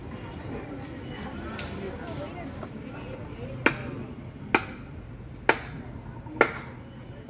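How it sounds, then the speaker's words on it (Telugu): Four sharp hand claps, spaced about a second apart, ring out near and loud to trigger a clap-activated switch at a school science demonstration, after a stretch of room chatter and voices. "అలా ఒక క్లాప్కి ఇది ఆన్ అవ్వాలి, ఇంకో క్లాప్కి ఆఫ్ అయిపోవాలి"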